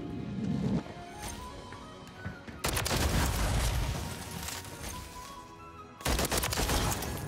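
Bursts of rapid automatic gunfire from Call of Duty: Modern Warfare III, a Holger 556 loadout, come in loud, dense stretches separated by quieter gaps, with a final burst near the end.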